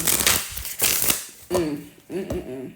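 Tarot cards being shuffled in quick riffling bursts, with a voice speaking briefly between them.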